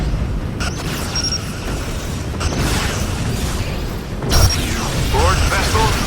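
A starship blows up in Star Trek: Legacy during a battle with Borg vessels, heavy booming blasts and crashes over a constant loud rumble of combat effects, with sharp bursts standing out against the din.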